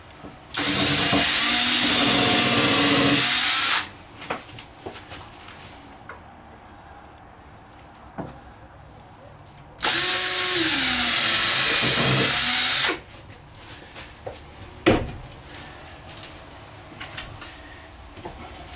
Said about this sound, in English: I'm going to pre-drill my holes because I'm going into the end here.